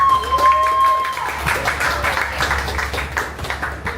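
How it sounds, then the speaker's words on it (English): Audience applause greets a guest at a live event, a broad wash of clapping and crowd noise running steadily throughout, loud and close, with a brief tone and a voice briefly mixed in near the start. "Please give a big round of applause for the beautiful lady out there"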